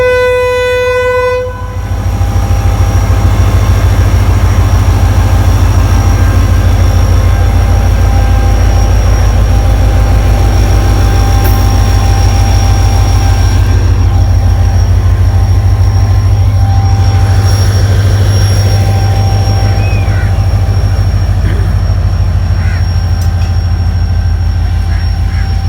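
A train from Karachi at Tando Adam railway station sounds a short horn blast, then a loud, continuous low rumble of rolling wheels and engine persists for over twenty seconds.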